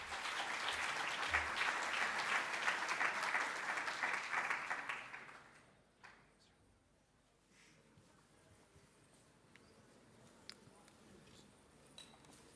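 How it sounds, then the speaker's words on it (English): Audience applause at a tech conference in London rises steadily for about five seconds and then fades out, leaving a quiet, roomy hall with a few faint scattered sounds. "Please give a round of applause"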